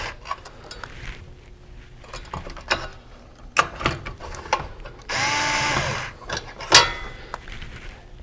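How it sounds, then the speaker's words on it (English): A hex bit driver backs screws out of a trace gas analyzer's battery door, giving scattered clicks and ratcheting taps, then a continuous whirring burst of about a second and a sharp rattle near the end, all up close with no talking. "this is held by 4 screws, and we'll be using our hex bit to get these out."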